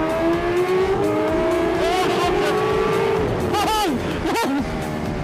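An H2 superbike opens up hard out of a left-hander onto a race track's pit straight, its engine note climbing steadily and loud, then dipping and rising again through quick shifts near the end.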